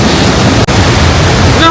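Niagara Falls thunders as a dense, continuous wash of roaring water, loud and close, with a brief dropout midway and a faint tonal sound near the end.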